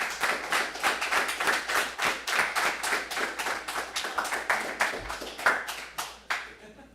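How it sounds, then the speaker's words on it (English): Graduating class of an executive protection security specialist course is applauded by a small group, with distinct, rhythmic individual claps, close and sharp, beating steadily at about three per second before tapering off. "Let's give them all a round of applause"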